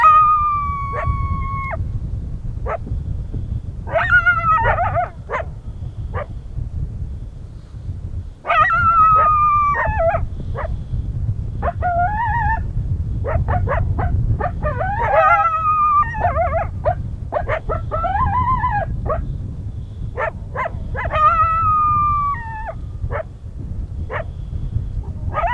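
Coyote vocalizing on a ridge during a hunt, a series of rising yips, wavering howls and sharp barks repeated across the whole stretch, fairly close and loud over a constant low wind rumble.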